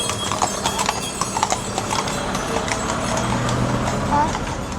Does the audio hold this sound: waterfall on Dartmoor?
no